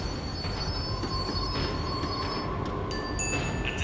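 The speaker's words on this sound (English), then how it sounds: "The tram was slowing down, and I'd only just gotten on board." A tram slowing down in the video game Max Payne 3, with steady rail rumble and high squealing wheels that flare near the end.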